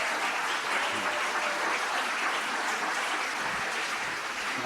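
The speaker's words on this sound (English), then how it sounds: "Please give Kayla another round of applause." Sustained audience applause at a justice conference's opening session, a steady dense wash of clapping from a large crowd that holds evenly without any talk over it.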